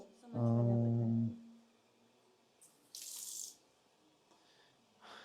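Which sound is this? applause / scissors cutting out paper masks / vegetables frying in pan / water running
water running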